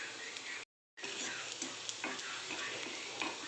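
Garlic tempering sizzles in hot oil, a soft, steady frying hiss with light ticking stirs against the pan, broken by a brief silent gap, close and fairly quiet with no voices.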